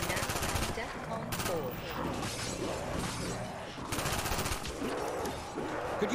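Guns fire in a Call of Duty Black Ops video game, with rapid bursts of automatic gunfire and sharp shots that pause briefly and resume.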